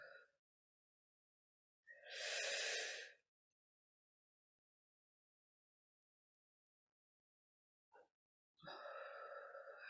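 During a guided meditation, a slow, soft exhaling breath rises and fades, followed after a long silence by a short breath and another drawn-out exhale.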